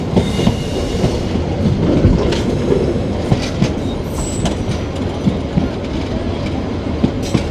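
Chattala Express passenger train running on the rails near Kasba railway station, with loud rumbling and rhythmic clickety-clack of wheels over rail joints, heard from inside a carriage close to the engine.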